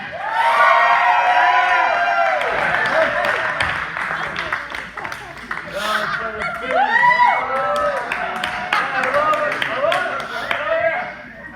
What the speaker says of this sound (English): I was so happy to hear so many of you cheer